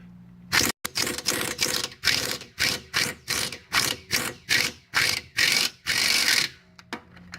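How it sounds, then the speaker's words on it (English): An impact wrench loosens bolts on a 2005 Nissan Murano wheel hub. Loud, close bursts of rapid hammering rattle come in a quick series of about a dozen short pulses with brief gaps between them. "I'm just going to pop these loose with my impact wrench and then use a ratchet on them"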